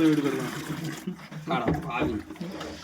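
Water trickles and pours into a container of buttermilk, giving a liquid splashing and dribbling sound that runs under loud voices talking throughout.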